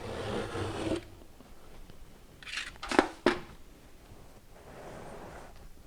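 Rigid foam insulation board being cut to size for joist ends, a short rough scraping at the start followed by a few sharp crunching snaps midway, close to the mic with no talk.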